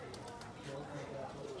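Pigeons coo softly in low, rolling murmurs while eating millet, beneath a person talking nearby.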